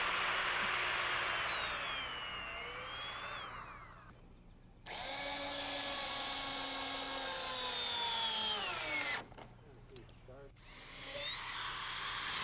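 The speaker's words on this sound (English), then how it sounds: "we drill pilot holes through the decking" A power drill boring pilot holes through porch decking boards on a front porch joist build, whining in two long sustained runs with pitch shifts and a short pause between, fairly quiet.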